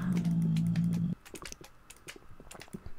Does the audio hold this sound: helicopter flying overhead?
no